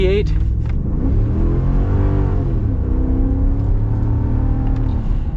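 A 2021 Ford F-250 with the 6.2L V8 gasoline engine accelerates under throttle, a loud, steady engine roar whose pitch climbs smoothly through the gears, heard close from inside the truck.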